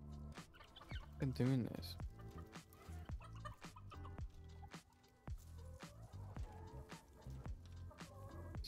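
Chickens clucking in the video game Dungeons 4, soft fowl calls scattered under people talking and game sounds, fairly quiet throughout.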